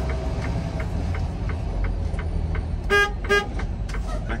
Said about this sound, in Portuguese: Aquela paradinha, as duas buzinadas.